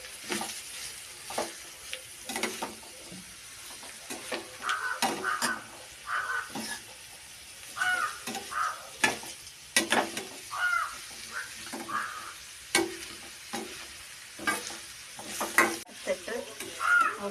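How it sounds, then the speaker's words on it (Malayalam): Beetroot for pickle cooking in oil in a pan, a continuous sizzle broken by frequent spoon-stirring scrapes and clinks at an uneven pace, close by, with crows cawing faintly in the background. "എണ്ണയിൽ കിടന്ന് തന്നെ വേവണം കണ്ട എണ്ണയിലാണ് ഞാൻ വാട്ടുന്നത്"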